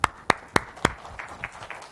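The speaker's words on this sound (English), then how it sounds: "Great applause." An audience breaks into applause: four sharp, evenly spaced claps up close, then softer, scattered clapping that fades out.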